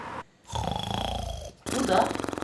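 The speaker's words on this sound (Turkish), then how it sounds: "Horlama sesi." Two deep, rattling snores, each a drawn-out rasping breath, heard close and clear with a short pause between them.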